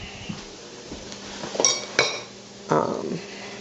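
A utensil stirs jalapeno cornbread batter in a bowl, making quiet scraping with several bright clinks and knocks against the bowl, close and sparse.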